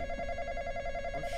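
A telephone rings in the Roblox game The Intruder, a steady electronic ring holding for over a second at close, even loudness with no talk over it.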